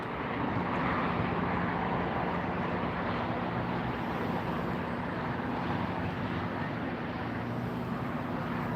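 Airliners taxiing at LAX airport at night give a continuous broad jet roar and rumble, fairly loud and steady, with no speech over it.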